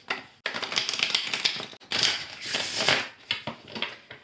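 Brisk papery riffling of oracle cards being shuffled in several quick bursts with brief pauses between, close and fairly loud, no talking.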